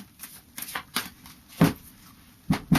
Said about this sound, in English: this is just a final shuffle